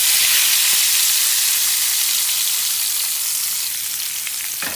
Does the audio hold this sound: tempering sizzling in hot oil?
yes